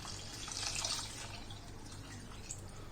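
Water poured into a pan of cooking curry, a soft steady splash and trickle heard close at low volume, continuing for a few seconds with no talk.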